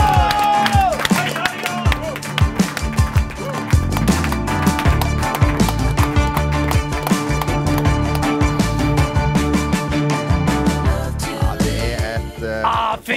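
A studio audience claps and cheers at a live podcast show, the applause mixed under loud band music with a few whoops rising through.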